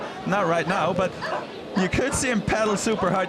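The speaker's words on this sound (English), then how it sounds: "you can hear the dogs in the background." Dogs barking and yipping in the background at an urban downhill mountain bike race in Valparaíso, repeated sharp barks mixed under continuous commentary.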